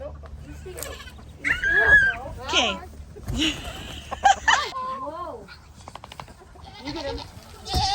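Goats bleat several times, wavering cries close by, while people talk briefly in between.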